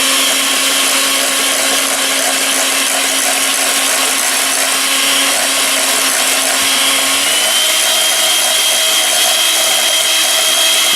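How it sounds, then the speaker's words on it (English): Loud, steady whine of a kitchen blender whipping homemade mayonnaise with lemon juice, the motor pitch dropping slightly partway through as the mixture thickens, with no voices. "I'm going to go ahead and blend that in."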